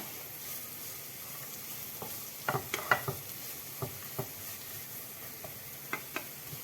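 Carrots stirred and frying in oil in a pan, with a soft steady sizzle under scattered scraping clicks of a spoon against the pan, louder around the middle, with no talking.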